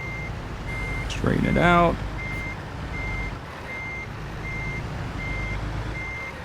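Steady, evenly spaced reversing beeps from a truck backing into a stall in American Truck Simulator, repeating throughout over low engine rumble, with a brief spoken remark early on.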